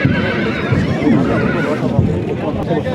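A horse neighs loudly at a busy livestock market where sheep, goats and horses are traded, its whinny rising over steady crowd chatter and people talking close by throughout.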